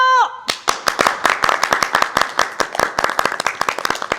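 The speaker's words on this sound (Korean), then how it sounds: "박수 쳐" A brief voice opens, then a quick, steady run of hand claps takes over, crisp and close, beating in an even rhythm to the start of a Korean web show segment.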